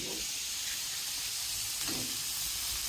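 Potatoes hiss and sizzle in a hot pan as a crab and cabbage dish is cooked, a steady, moderately loud frying noise with small crackling swells and no talking.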